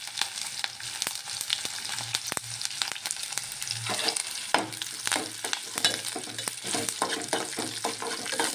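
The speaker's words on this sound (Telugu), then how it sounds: "తర్వాత కరివేపాకు వేసుకుంటున్నాను" Curry leaves sizzle in hot oil with spices and green chilli for puffed-rice chitranna, a steady close crackle broken by repeated scraping stirs of a spoon against the pan.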